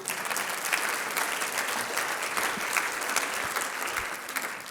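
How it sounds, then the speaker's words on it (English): A large audience at a talk on social purpose business claps continuously in a dense, loud, sustained wash of applause with no pauses for nearly five seconds. "And that's time for another round of applause."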